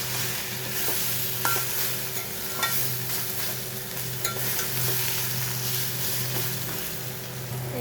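Bitter gourd stir-fried with fish head in a pan, a steady close sizzle with scraping stirs of the spatula running continuously throughout.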